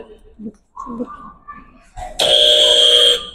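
A loud, harsh electronic answer buzzer sounds once for about a second during a classroom quiz, following brief quiet talking.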